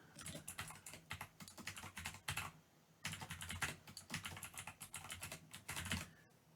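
Typing on a computer keyboard while entering a task name in a project task list, with steady bursts of close keystrokes, a brief pause near the middle, then more rapid clacking, with no talking.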